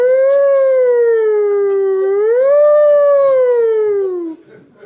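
A single ambulance siren tone that rises and falls slowly in pitch, loud and sustained for about four seconds before cutting off.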